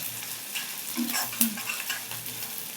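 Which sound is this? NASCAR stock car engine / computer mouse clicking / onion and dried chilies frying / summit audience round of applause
onion and dried chilies frying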